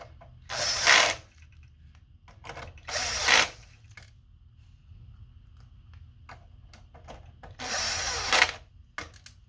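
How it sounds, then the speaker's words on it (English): A power drill driving screws during a PS5 HDMI port repair makes three close, loud whirring bursts separated by quiet pauses, with faint handling clicks in between. "So I like using a drill for this"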